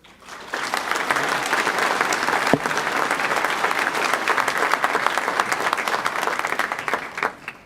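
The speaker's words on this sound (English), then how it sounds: "A round of applause and congratulations to class of 2025" A large audience at the Idaho State University GED graduation ceremony for the class of 2025 claps steadily and loudly for several seconds, a thick, sustained wash of applause.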